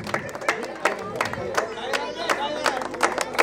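An audience claps at a Banjara women's prize ceremony, with scattered sharp claps over crowd hubbub and chatter, fairly loud throughout.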